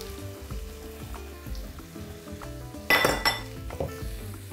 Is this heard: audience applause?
no